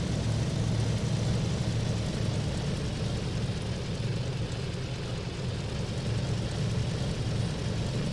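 A small plane's engine drones steadily at a low idle while taxiing toward the runway in Alaska, a continuous close rumble with no voices.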